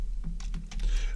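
Keys clacking on a computer keyboard in a short burst of quick, uneven taps, fairly close and clear over a low steady hum, with no talk.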